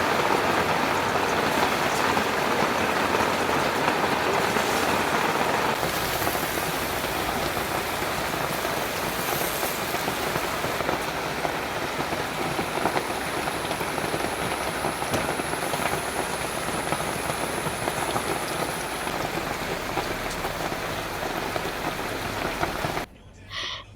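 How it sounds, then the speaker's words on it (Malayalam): Heavy rain drums steadily on a metal sheet roof, a dense, loud, unbroken hiss and patter that continues for the whole stretch with no talking. "ബാക്ക്ഗ്രൗണ്ടിൽ നല്ല മഴ പെയ്യുന്നുണ്ട് കേട്ടോ. ഷീറ്റുമ്മക്ക് ചറ പറ മഴ പെയ്യുന്നുണ്ട്."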